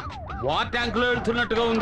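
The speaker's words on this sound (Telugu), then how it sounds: "ఏంటి ఆ సౌండ్? సైరన్ సౌండ్ అండి." A vehicle siren wails with rising and falling tones on a highway in a Telugu film scene, fairly loud and mixed under continuous talking voices.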